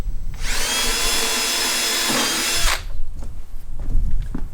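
A power drill drives screws into the legs of a butcher block table, a loud steady whine holding for about two and a half seconds before cutting off, followed by quieter workshop handling noises.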